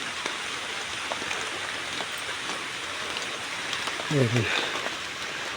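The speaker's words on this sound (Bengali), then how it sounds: "দেখেন একটু করে পড়তেছে বৃষ্টি।" Light rain falling while the sun shines, heard as a steady soft hiss of drops on surfaces with a brief voice near the end.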